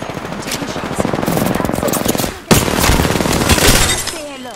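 Rapid automatic gunfire in Apex Legends from an R-99 submachine gun: loud, close, continuous bursts that pause briefly, then resume in a sharp burst of rattling fire, with a faint voice underneath.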